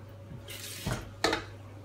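Cold water poured into a pot of rinsed rice, two short splashing pours in quick succession, close and fairly quiet, with no talk over them.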